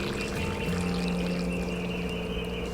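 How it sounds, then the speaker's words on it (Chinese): Hot broth from the pot is ladled over cooked fish pieces for a green Sichuan peppercorn fish dish, a soft steady pouring hiss close by with a faint hum beneath. "再把锅里的汤汁淋进去"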